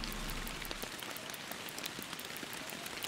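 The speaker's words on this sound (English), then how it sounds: "I wish that rain would go away." Steady rain pours down in the Fishing Planet video game at Falcon Lake, Oregon, a dense, even hiss of drops on water and surfaces with scattered sharper patters, continuous and alone without voices.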